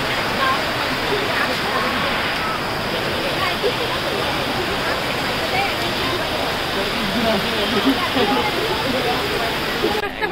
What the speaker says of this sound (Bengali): দেখুন গাইস কি পরিমাণ বৃষ্টি হচ্ছে দেখুন।